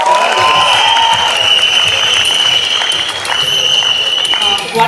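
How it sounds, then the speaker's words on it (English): Audience at a college event claps loudly and continuously, while a piercing sustained whistle or tone rings over the applause. "applause. तालियां बजती रहनी चाहिए."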